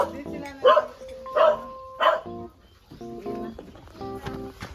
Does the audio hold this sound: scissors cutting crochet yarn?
no